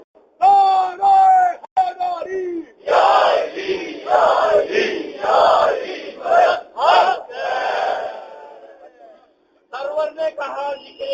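At a Muharram religious gathering, a lead voice calls out a slogan and a large crowd answers with loud chants in unison. The crowd roars in rhythmic waves before the single voice resumes.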